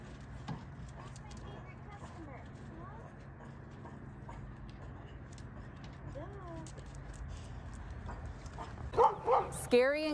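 An aggressive dog barks at a mail carrier, quiet yips and whines at first under background voices, then a burst of loud, close barks near the end.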